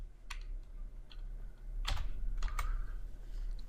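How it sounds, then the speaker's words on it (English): Keystrokes on a computer keyboard: a few separate clicks early on, then a denser burst of typing near the middle, close and fairly quiet over a low steady hum. "so if I type in localhost"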